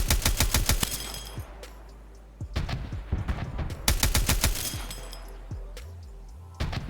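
Automatic grenade launcher firing in a video game, with rapid bursts of sharp, loud repeated shots and cracks in two main volleys, separated by a quieter stretch of scattered impacts and rumble.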